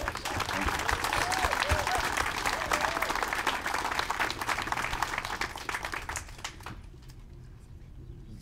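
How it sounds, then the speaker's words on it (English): Audience applause at an outdoor key ceremony for a donated new home, a crowd clapping steadily before tapering off into quiet, with faint bird calls in the background. "And so I think Mike Ostermiller definitely deserves a big round of applause."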